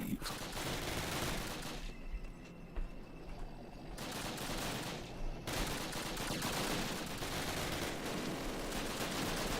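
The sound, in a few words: machine gun fire in a video game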